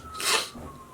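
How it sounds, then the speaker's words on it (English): One short, breathy sneeze bursts out close to the microphone, a sharp hiss lasting under half a second and followed by quiet. "I have to sneeze."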